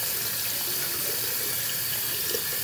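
Tap water runs steadily over broccoli in a strainer, a close, continuous splashing hiss with no break.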